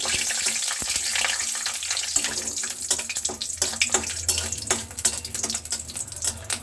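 Bay leaves and dried red chillies sizzle in mustard oil and ghee in a kadai for an egg tarka, a steady close frying crackle with bursts of spattering and stirring clinks, no talk.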